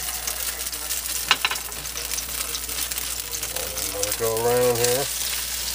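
Beef stroganoff pieces sizzling in oil in a hot cast iron pan, a steady quiet frying hiss under intermittent talk, with a brief clatter near the start.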